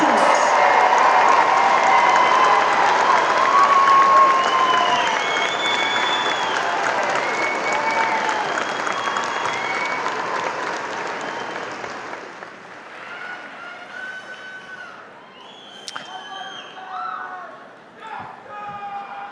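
A long, loud round of applause and cheering from a large crowd at the Clarkston High School 2026 graduation ceremony, honoring the graduating class. It stays dense for about twelve seconds, then thins into scattered claps and whoops.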